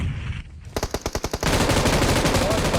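Automatic gunfire in the video game PUBG Mobile: a rapid burst of about eight loud, close shots, then continuous dense firing that fills the rest of the moment.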